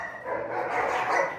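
Dogs bark outside in a dense, continuous burst of barking and yipping. The sound is moderately loud and a bit muffled, as if it comes from some distance, with no speech over it.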